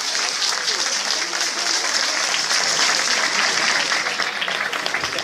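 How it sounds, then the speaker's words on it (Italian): A talent-show audience applauds loudly and continuously, a dense, steady wash of clapping that holds for the whole stretch with no pause. "un'altra applauso"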